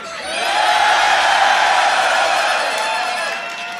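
A crowd at the Grand Beatbox Battle 2019 loopstation quarterfinal cheers in a loud, sustained roar that swells and then eases off near the end.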